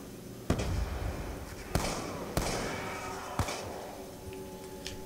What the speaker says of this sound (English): Throwing another grenade out.